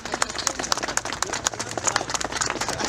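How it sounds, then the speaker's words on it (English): Audience applause in a hall at a chairman's speech, dense clapping from many hands sustained throughout, moderately loud with a lively, slightly uneven rhythm. "A little bit louder applause"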